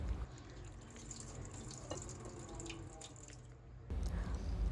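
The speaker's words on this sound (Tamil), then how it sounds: "இது நல்லா தண்ணியில் 2-3 வாட்டி அலசி எடுத்துக்கோங்க" Raw chicken pieces are rinsed in water with a little turmeric, giving faint, steady trickling and splashing with a few drips, quiet and close, with no speech.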